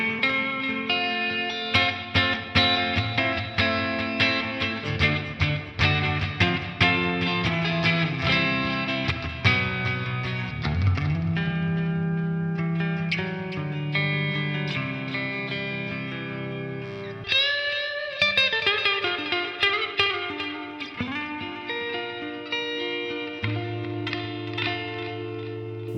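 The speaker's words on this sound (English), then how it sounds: "So it's compressing my DI of the guitar." Electric guitar played direct through a compressor on a TC Electronic Plethora X5 pedalboard multi-effect, sustained melodic notes and chords with smooth, even dynamics, steady and alone throughout.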